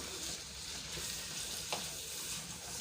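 Cauliflower sizzles steadily in a pan, a constant close frying hiss with a small clink partway through and no talking.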